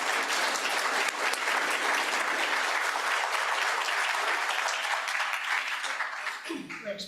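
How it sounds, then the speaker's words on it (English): A room full of people at a Rotary club meeting gives a big round of applause, dense sustained clapping for about six seconds before it thins and fades out. "let's give Paul a big round of applause."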